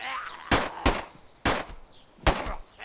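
Gunshots in the iOS pixel-art zombie survival game Mini DayZ 2 come as four crisp, punchy reports at uneven intervals, close and loud, with quiet gaps between them.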